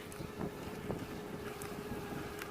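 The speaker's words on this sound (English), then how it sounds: "this being a micro airfield, so the wind is usually pretty strong around about here" Strong wind at an open micro airfield buffets the microphone in a steady, roaring rumble with gusty swells, heard while riding an e-bike along a mild hill.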